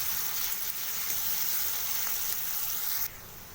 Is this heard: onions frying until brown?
yes